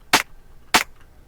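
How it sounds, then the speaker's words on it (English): Two sharp synthesized clap hits made in Bitwig for glitch-style electronic music, about half a second apart, bright and snappy, each alone with a short decay. "Then we've got a clap that I made"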